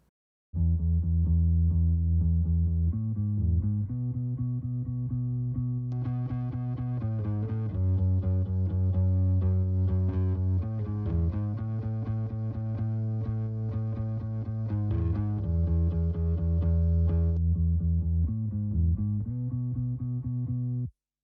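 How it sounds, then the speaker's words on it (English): A saturated, gritty bass line with added saturation and EQ plays continuously and loud, with sustained harmonic notes shifting pitch and brighter distorted texture in the middle section. "It's just I'm just adding that saturation and EQ to it."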